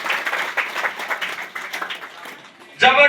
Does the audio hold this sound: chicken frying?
no